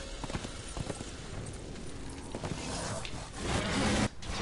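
Horse hooves clip-clop steadily at a moderate distance in the video game Darksiders, layered over ambient game noise that swells louder toward the end.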